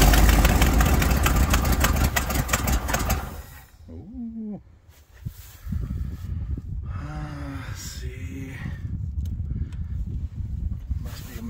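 A 1980 Ford LN700 truck engine runs on a cold morning with a manual choke, roaring loudly and steadily up close for several seconds, then dropping to a quieter, even idle while people talk over it.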